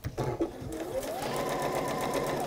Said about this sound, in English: It's quite a lot of quilting, John.